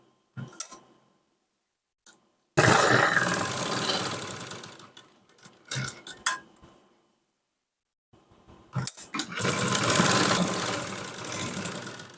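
A sewing machine runs in several bursts, stitching lining around a blouse piece, a close whirring mechanical hum with short starts and stops and quiet gaps between runs.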